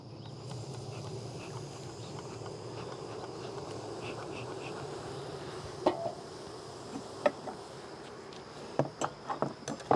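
Honey bees buzzing steadily around an open hive during a summer inspection, a continuous low drone of many insects with a few sharp clicks and knocks of equipment near the end.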